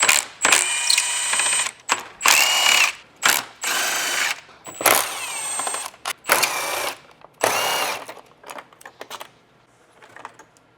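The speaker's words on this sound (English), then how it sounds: "There is going to be 6 10mm bolts holding it in" A hand ratchet backs out 10mm bolts from a Toyota Tacoma bumper vent, rapid clicking bursts in short repeated strokes with brief pauses between, close up and fairly loud, then fading to a few quiet clicks.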